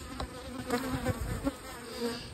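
Honey bees around hives buzz steadily in a dense, droning swarm, close and continuous, with no voices.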